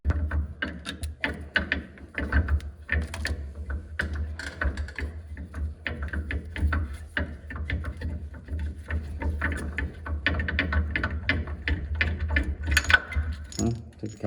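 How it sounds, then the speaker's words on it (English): A ratchet works loose the rear brake caliper bolt on a Nissan Frontier pickup, giving a dense run of close metallic clicks over a steady low hum. "Take the caliper bolt off."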